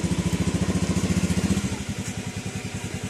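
A Honda Beat Fi scooter engine running just after starting, a close, steady, rapid putter with a regular pulsing rhythm that eases slightly partway through, heard alone without talk.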